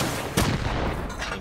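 Gunfire in the console version of Rust, a single loud close shot cutting through a dense, noisy wash of game sound, brief and sharp.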